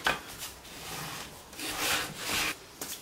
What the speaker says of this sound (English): the shooting board is good for precision planing small thin pieces.